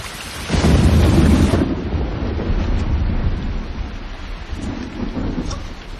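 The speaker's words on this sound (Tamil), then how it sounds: "தொடர்ந்து பெய்து வரும் அடைமழையில் சென்னையின் அனைத்து சாலைகளும் நீரில் மூழ்கின." Heavy rain pours down during a thunderstorm that floods the roads of Chennai, with a loud rolling clap of thunder up front and then a steady wash of rain and distant rumbles.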